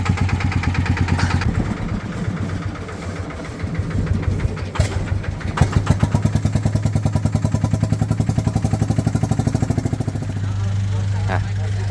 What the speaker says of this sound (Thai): พี่ทำไมรถดังกันดิอ่ะ ทำไมมันดังกันดิอ่ะ โอ้ มันสูบเดียว